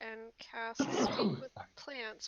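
A single sharp sneeze bursts out mid-conversation during a tabletop role-playing game session, with speech heard just before and after it.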